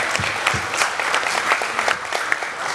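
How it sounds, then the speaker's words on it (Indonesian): Audience applause, a lively, fairly loud patter of many hands clapping together, with a few distinct sharp claps rising above the steady wash. "tepuk tangan yang meriah"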